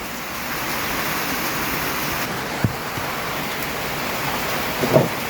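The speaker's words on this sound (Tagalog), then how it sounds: "So medyo nabasa tayo sa ulan." Steady, even rain hiss fills the whole clip, with a couple of faint brief knocks near the end.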